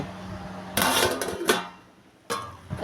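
A lid is set onto a pan of fried Malabar spinach, a couple of metallic clatters and clinks up close, with a pause between handling sounds.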